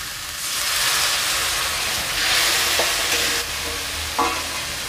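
Spiced masala for a cauliflower curry sizzles steadily in a pan, a continuous frying hiss with a few soft stirring scrapes, close and moderately loud with no talk.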